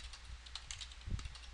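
Quiet, close keystrokes on a computer keyboard as a command is typed at a prompt, a quick irregular patter of soft clicks with one heavier thump near the end.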